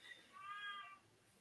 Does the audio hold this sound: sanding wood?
no